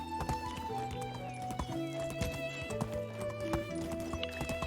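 A donkey is ridden in the video game Medieval Dynasty, its hooves clip-clopping in a quick steady rhythm over a bed of music and ambience, moderately loud with no talking.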